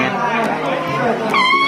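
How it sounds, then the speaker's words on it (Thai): An elephant at Khao Kheow Open Zoo in Chonburi gives a loud, brassy trumpeting blare with strong harmonics over a noisy crowd, ending in a sustained high tone; people chatter throughout. "เสียงช้าง เสียงช้างสวัสดี"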